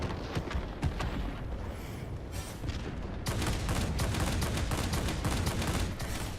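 Me 262 jet fighter firing its cannon in World of Warplanes, dense loud rapid bursts of gunfire over engine roar, a short pause, then a heavier sustained barrage.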